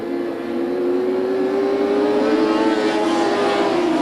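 USAC midget race cars circling the track in a 1996 race at Bakersfield, with a loud, steady engine drone that holds a sustained tone and slowly slides in pitch as the cars run through the turns.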